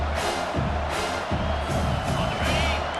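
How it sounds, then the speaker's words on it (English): Stadium crowd noise swells into a roar of cheering during a third-down defensive stand in EA Sports College Football 25, a dense, loud wash that stays steady throughout. "Decibels rising as the crowd gets behind this defense on third down."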